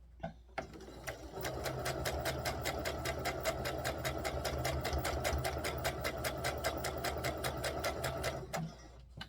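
Sewing machine stitching a sleeve seam on a child's dress from Simplicity pattern 3522, running steadily for about eight seconds with a rapid, even needle rhythm, close and clear, with brief stops at the start and end.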